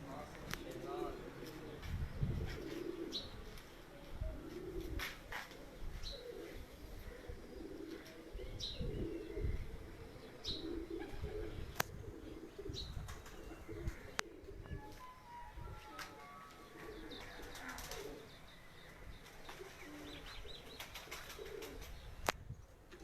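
Pigeons coo on a rooftop in Kharian, soft low calls recurring among scattered chirps and a brief flutter of wings, set against faint outdoor background noise with distant voices.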